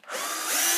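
A power drill spins up and bores steadily into the wood of a handmade candle holder, with a close, loud, continuous whine that builds and holds.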